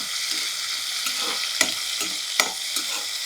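Dried prawns fry in a hot pan for a brinjal curry, giving a constant close sizzle broken by a couple of sharp stirring clicks and scrapes.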